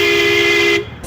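A single loud, close vehicle horn blast sounds for just under a second and then cuts off abruptly.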